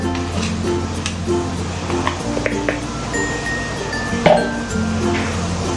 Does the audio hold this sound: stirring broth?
yes